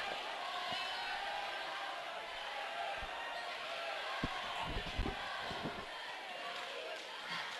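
A crowd at a high school boys' varsity basketball game, Triad vs Highland, jeers a player after an airball: a steady, loud mass of crowd noise with a few sharp ball bounces and thumps near the middle, and voices talking underneath.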